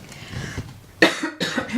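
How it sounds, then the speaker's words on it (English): Two sharp coughs close by during a yoga class, following a faint murmur, each a harsh burst in a quiet setting. "I feel like I need to cough."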